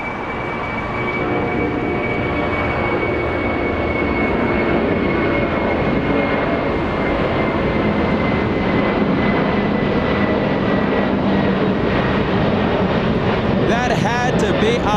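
An airliner departs from a LAX runway, engines producing a loud, steady jet roar with a faint whine that holds throughout, while voices talk underneath.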